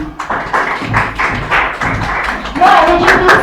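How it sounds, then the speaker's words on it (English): Audience applause at a STEP leadership development event, a crowd clapping steadily with rhythmic taps and claps, swelling louder toward the end. "Round of applause, please."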